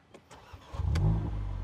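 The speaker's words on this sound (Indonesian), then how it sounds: "Oke, kita nyalain dulu mesinnya, kita dengar suaranya ya." A few starter clicks, then a Mercedes CLA 45 AMG engine with a semi-racing exhaust catches and rumbles into a low, steady idle, close and fairly loud.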